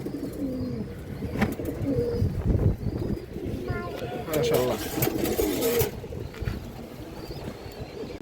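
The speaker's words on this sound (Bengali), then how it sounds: "খুবই সুন্দর একটা লাল চুল্লি কবুতর" A red Giribaz high-flyer pigeon coos softly in bursts among other birds at a market stall. A voice talks over and between the calls.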